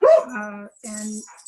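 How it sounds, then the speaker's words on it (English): A dog barks twice in quick succession, near and fairly loud, in the background of a finance committee meeting, with a voice speaking briefly at the start. "Sorry about the dog."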